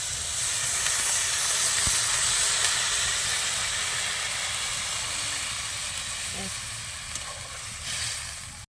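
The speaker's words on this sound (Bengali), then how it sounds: "তো তরকারিটা এই যে ফুটে গেছে" A steady bubbling hiss of potato curry simmering in a pot, continuous and fairly close, with a few faint clinks and no talking.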